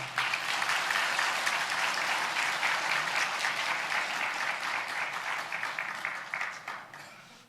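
A church congregation applauds a bride and groom during a worship service, with dense, steady clapping from many hands that fades toward the end.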